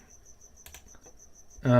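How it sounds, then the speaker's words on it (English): A cricket chirps steadily in the background in a fast, regular pulsing trill, faint and continuous, with a few soft clicks and a louder voice-like sound cutting in at the end. "I do apologise if you can hear a cricket in the background"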